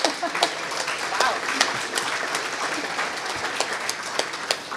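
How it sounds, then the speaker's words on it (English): Sustained audience applause at an Indigenous cleaner energy forum, steady crowded clapping with a few sharper claps standing out, with some background voices. "Ken Hartwick, give him a round of applause as he comes in."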